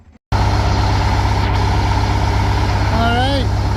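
A bus engine runs loud and steady with a deep, constant rumble, after a brief quiet start. A voice speaks over the engine noise, and a short rising whine is heard near the end.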